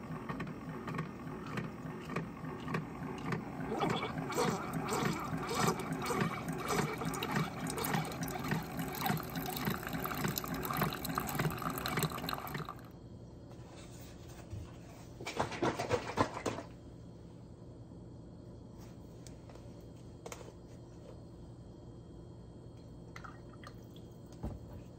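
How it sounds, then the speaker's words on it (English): Coffee maker brewing Peet's pumpkin spice coffee into a cup on a 10-ounce setting, a steady trickle and drip of liquid for about half the clip before it fades to quiet with a brief sputter near the end. "So I'm going to put this in here, brew it on my 10-ounce setting."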